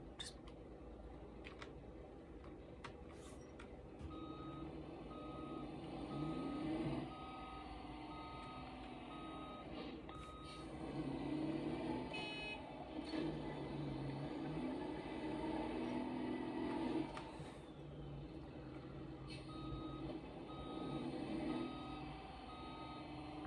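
A cola delivery truck in the BeamNG.drive driving game backs up, its reversing alarm beeping steadily at an even pace under a low engine hum, while a person talks quietly over it.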